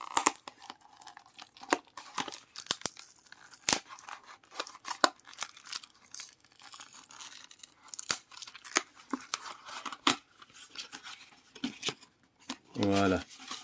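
Unboxing a Logitech Harmony Elite remote: crisp rustling, tearing and snipping of cardboard and plastic manual packaging, close up in irregular bursts, with someone speaking French briefly.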